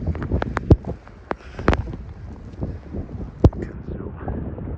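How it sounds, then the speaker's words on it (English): Blizzard wind in Middleboro, Massachusetts, blowing snow sideways, buffeting the microphone with rough rumbling gusts and a few sharp pops, close and without talk. "the wind is just pushing the snow sideways"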